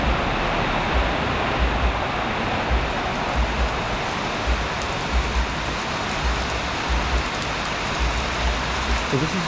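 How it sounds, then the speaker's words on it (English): A hard, short tropical rain shower in the rainy season on Ko Samui pours down steadily: a dense, continuous hiss of rainfall close by, with soft low thumps underneath, and no talking. "So this is the rainy season right now, and I'm told that it rains hard and short."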